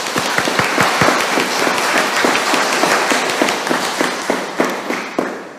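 Congregation applauding inside a church at an Easter Vigil Mass, a dense, steady wash of many hands clapping with sharp individual claps standing out throughout.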